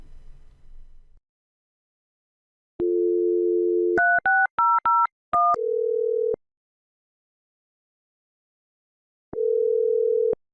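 Office desk phone on speakerphone, set up for site abbreviated dialing: a steady dial tone, then a quick run of short dialing beeps at varied pitches, followed by a longer tone and another after a pause, with no talking.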